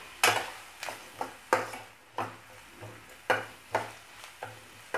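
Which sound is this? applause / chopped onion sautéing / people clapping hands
chopped onion sautéing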